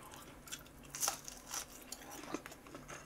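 A crispy snack made from dumpling wrappers, filled with nuts and cheese, is bitten into with a sharp crunch, followed by a few quieter crackling chews close to the microphone.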